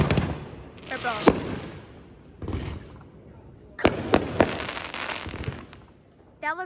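Fireworks at an outdoor celebration, loud bangs and rolling crackle in uneven bursts, several sharp reports close together near the middle, with a young voice speaking briefly at the end.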